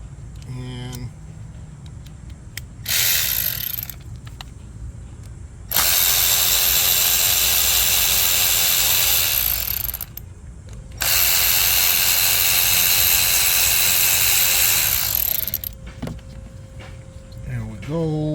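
A ratchet with an 8mm inverted Torx socket backs out the two bolts holding an ignition coil on a Mercedes CLS 400 3.0 V6 turbo, sounding in two long bursts of fast clicking plus a short one, close up, with brief pauses between.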